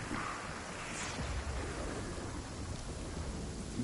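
Storm thunder in the video game Fortnite, a steady loud rumbling roar with rain-like hiss sustained throughout, without pauses.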